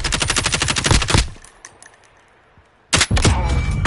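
Rapid automatic gunfire in the Call of Duty Modern Warfare Warzone video game, a loud close burst that stops, a short lull of faint background, then another burst resumes.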